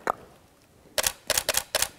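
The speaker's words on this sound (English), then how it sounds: "There we go, we got a nice headshot of Henry." A camera shutter fires while photographing a shelter dog: one crisp click, a pause, then four quick mechanical clicks in a loose burst, close and sharp in a quiet room.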